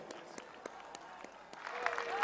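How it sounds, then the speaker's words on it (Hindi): An audience applauds in welcome for the Prime Minister at a Subhash Chandra Bose 125th birth anniversary event at Victoria Memorial, Kolkata. The clapping is broad and sustained and builds toward the end, with a faint voice over it. "तालियों से स्वागत कीजिए"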